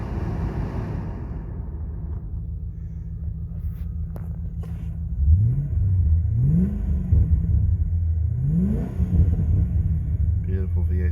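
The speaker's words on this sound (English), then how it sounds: "Beautiful V8 sound." A 1999 Holden Commodore VT HSV Clubsport V8 idles with a low, close rumble, then gives a few short revs that rise and fall in pitch, with a quiet voice partly over it.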